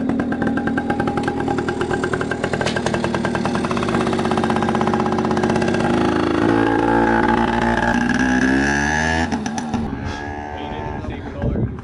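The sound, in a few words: two-stroke dirt bike engine riding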